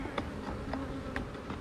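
Bees buzzing around a nuc hive near freshly waxed equipment: several insects drone close by with wavering, overlapping buzzes and passing flybys, a steady moderate hum with no voices.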